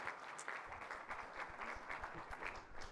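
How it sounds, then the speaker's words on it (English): A crowd gives a round of applause for city departments at a State of the City address, soft and distant with uneven bursts of clapping running steadily throughout. "how about a round of applause for both of these departments?"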